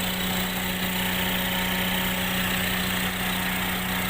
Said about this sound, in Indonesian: seperti ini mesin nyala